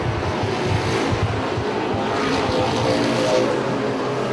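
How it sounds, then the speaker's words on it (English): Street stock race cars roar around a track, their engines blending into a loud, continuous droning rumble with rising and falling pitch as the pack passes. No one speaks. "Blaine Bear down the front straightaway, down into turn number 1, trying to chase down the 75 of Jonathan Hindenthal."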